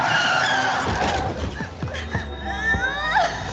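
Car tires screech and skid in a drunk driving crash, with sharp squeals and sliding noise rising and falling over several seconds, fairly loud and close.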